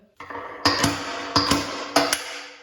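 Three sharp, ringing hammer strikes on metal, each a quick double hit, evenly spaced and close, with a metallic ring after each.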